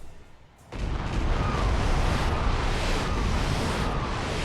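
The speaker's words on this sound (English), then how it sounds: "Explosions are certainly pretty." Artillery strikes in BattleTech set off a sudden loud boom that swells into a sustained, roaring rumble of explosions lasting several seconds.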